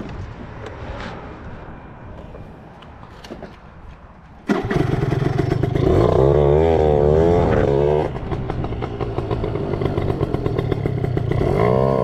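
A motorcycle engine revs up loudly and close after a quieter rumbling stretch, then keeps roaring with shifting pitch as it rides.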